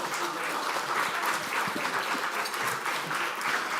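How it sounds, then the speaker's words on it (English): Conference audience applauding a team, a steady wash of many hands clapping together, fairly distant and even throughout. "Please give them a warm round of applause."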